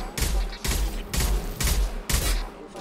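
Assault rifle gunfire in the video game Mass Effect 2, heard as four loud bursts of rapid fire with brief gaps between them, close and punchy.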